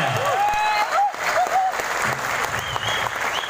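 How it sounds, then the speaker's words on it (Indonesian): Football supporters clapping hands together at a public match screening for PSIS Semarang versus Persebaya Surabaya, brisk crowd claps with whistles and shouts mixed in, fairly close. "Yeah, tepuk tangannya."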